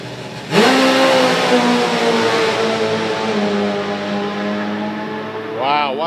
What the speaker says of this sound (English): Another one of those 5-second fuel bikes, folks.